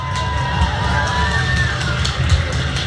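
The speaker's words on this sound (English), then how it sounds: "a big round of applause for everyone for all their hard work" A crowd cheers and shouts after a Chinese New Year martial arts demonstration in London, a loud continuous wash of voices with low rumbling noise and faint clapping mixed in.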